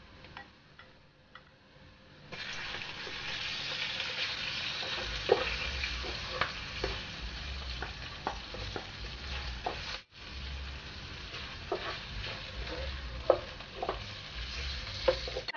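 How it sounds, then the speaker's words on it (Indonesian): Chicken pieces are stir-fried in a pan for a homemade soup, giving a loud, steady sizzle with intermittent scraping and clicking from stirring, and no talk. "kita bisa sambil tumis ayamnya"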